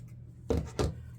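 Scissors cutting deco mesh for a Christmas door swag wreath, two quick crisp snips close by, against a quiet background.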